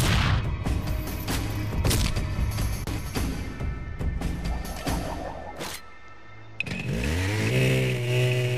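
A chainsaw revs and roars in the Shank video game amid crashing combat hits and bursts of game noise, loud and continuous, ending with a rising engine whine.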